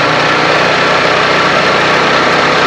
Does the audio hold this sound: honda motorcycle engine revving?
yes